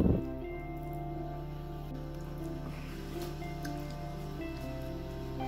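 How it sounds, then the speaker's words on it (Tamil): Vietnamese cake batter of sugar, maida flour and moong dal is mixed, giving soft, wet squishing and dripping sounds close by over a steady background hum. "நல்லா இப்படி போட்டு மிக்ஸ் பண்ணணும்"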